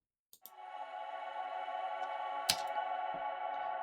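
A sustained synth tone swells into a dense, washed-out reverberant drone from reverb set to a 60-second decay and 99% wet, with a few sharp clicks cutting through the long wash.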